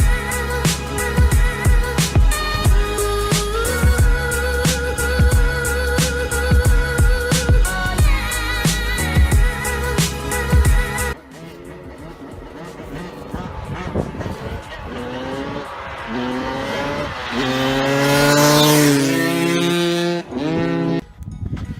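A dirt bike's engine roars loudly and close, revving steadily for the first half, then rising and falling in pitch as it accelerates and shifts.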